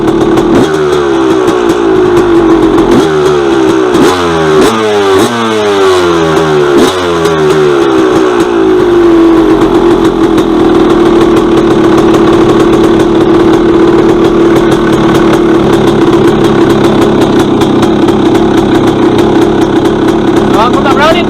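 A cold used dirt bike engine idles loudly and close, first with an uneven, lumpy rhythm that wavers in pitch, then settling into a steady, even putter for the rest of the time.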